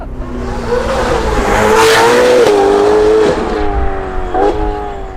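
A Ferrari V8 exhaust revs loudly up and holds high, then eases off before a short second blip near the end. No one speaks.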